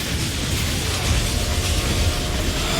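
A train in a Final Fantasy game rumbles past, a dense, steady rolling roar with rattling noise throughout and no talk.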